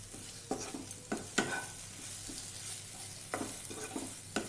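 Ground spices sizzling and frying in a pan for cauliflower kurma, with a steady faint hiss broken by soft scraping stir strokes at irregular intervals, close by and with no talking.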